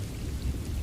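Steady rain pouring outside a small momo shop, a dense, even hiss with low rumble, continuous and alone without voices.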